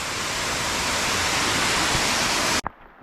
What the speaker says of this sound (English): waterfalls are dangerous.